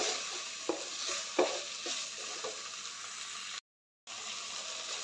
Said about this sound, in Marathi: कांदा, टोमॅटो लालसर होईपर्यंत भाजून घ्यायचं आहे